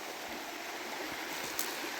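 Narmada river water flowing and babbling, a steady broadband rush heard close and continuous with no speech.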